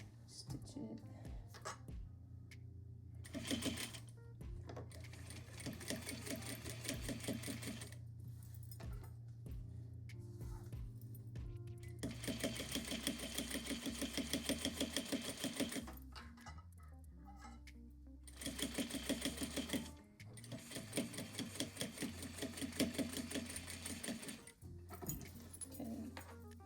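A home sewing machine runs a fine short-length seam on a small zippered fabric pouch, giving steady mechanical stitching bursts around the middle and near the end, broken by pauses with talk in between.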